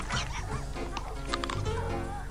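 A cartoon puppy barks in short, high yips over a busy animated soundtrack with music, and voices speak around the barks.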